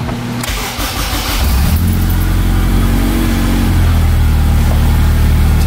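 A car with a swapped Honda K20Z1 engine and new wiring harness cranks briefly, fires up, and rises into a loud, steady idle close by.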